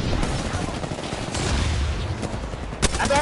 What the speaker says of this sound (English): Shoot it! Yeah, shoot that out.